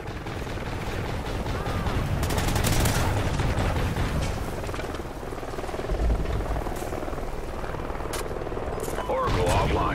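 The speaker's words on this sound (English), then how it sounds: "Friendly Helo pilot active." Helicopter rotor and rapid gunfire in the Call of Duty Ghosts video game, continuous chopping drone under bursts of automatic fire, dense and loud throughout, with a voice speaking over it.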